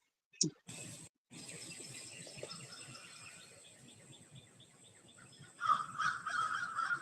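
Noisy birds, including crow-like caws and chirps, call in the background outdoors around a chicken coop. The calls are faint and scattered at first, then become louder and busier near the end.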